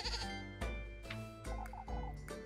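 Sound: goat bleating

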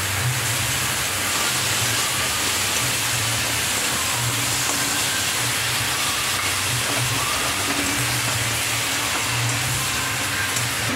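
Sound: ground spice paste added to hot oil, sizzling

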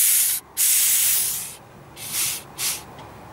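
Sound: gas hissing out of mini split line

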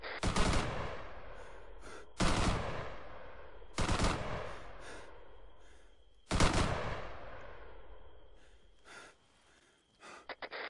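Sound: suppressive gunfire on a tower in ArmA 3, video game

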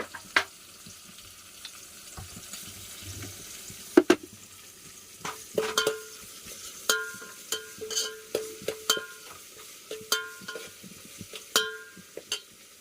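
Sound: frying ginger garlic paste for village chicken curry

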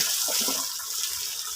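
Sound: water flowing strongly from hose

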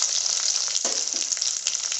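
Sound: urad dal and fennel frying in oil

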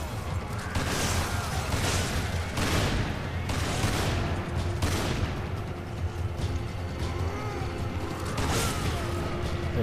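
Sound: gunfire from the video game Resident Evil 5

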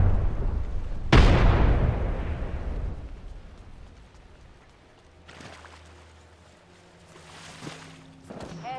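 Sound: frag grenade explosion in a video game

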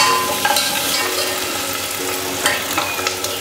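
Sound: onions frying in a pan for paneer butter masala

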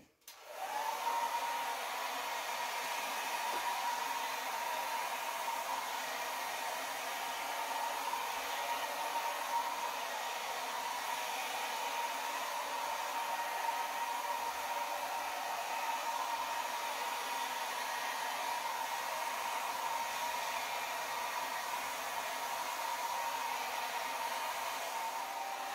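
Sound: Babyliss travel hairdryer on low speed

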